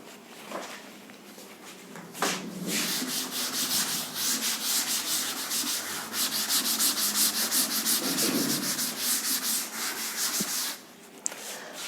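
A chalkboard is rubbed clean during an optics lecture on zone plates, a steady scratchy scrubbing that runs in long strokes for about nine seconds, close and fairly loud, with brief knocks at the start and end.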